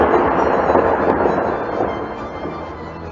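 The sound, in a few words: thunder and lightning strike sound effect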